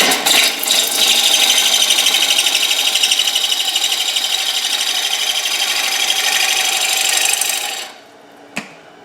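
Wet green wood turning on a lathe, a loud, steady hissing cut with a whistling rasp that runs for several seconds and then stops abruptly, followed by a single faint knock.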